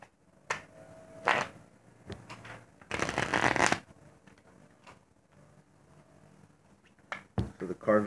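Playing cards are shuffled for a game of Conquian in several short riffling bursts, with one longer, louder shuffle in the middle, close up in a quiet room.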